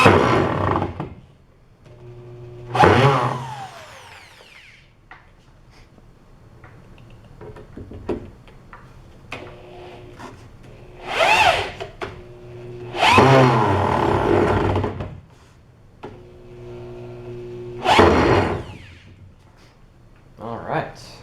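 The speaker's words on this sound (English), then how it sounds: "you can turn the catapult upside down and drill from this direction" A power drill drives screws into a wooden catapult, with several short whirring bursts spread between stretches of someone talking.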